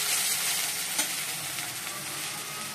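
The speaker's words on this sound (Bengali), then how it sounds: "চলো, ভাজা করছি।" Vegetables frying in hot oil in a home kitchen give a steady, close sizzle throughout, with one brief louder crackle near the middle and no talk.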